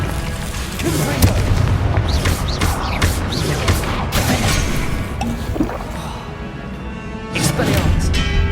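A Confringo blasting spell bursts in Hogwarts Legacy during a duel, a series of loud booming blasts and crashes amid frantic combat, with a voice shouting over the chaos.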